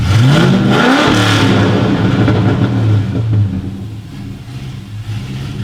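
A truck engine revs hard with no mufflers connected, loud and raw, rising in pitch before settling into a rough, rumbling idle.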